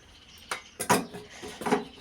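A pan is set on a stove and oil is added while cooking upma, giving a few sharp metallic clanks and clinks of cookware, close and fairly loud, with no talking.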